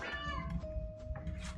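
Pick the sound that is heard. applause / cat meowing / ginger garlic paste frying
cat meowing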